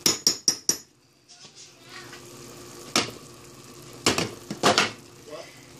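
A pork chop is flipped in a frying pan, with a few sharp metallic clinks from a utensil against the pan at the start, then a soft sizzle broken by scrapes and knocks.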